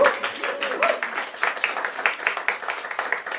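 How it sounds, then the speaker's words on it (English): Audience applause for a reader at a literary reading event, a modest crowd clapping in brisk, irregular bursts throughout, with a brief voice-like tone at the start. "You can't clap too much here."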